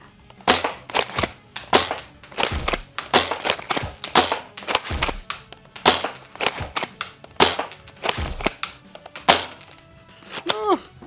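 A Nerf WS7 limited-edition shell-ejecting toy shotgun fired rapidly from the hip, a long run of sharp, loud pops and clacky pump actions following one another in an irregular rhythm, close by with no talk.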